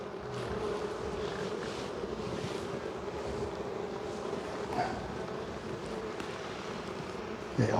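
Bees in a bee yard give a steady, dense buzz that fills the scene evenly, close and continuous, with a bump of handling noise at the end.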